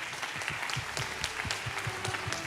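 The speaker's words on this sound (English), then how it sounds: "Please give him a big round of applause." Audience applause at a community awards gala, individual claps distinct and rhythmic within a moderate crowd, somewhat distant and fairly soft, continuing steadily without any talking.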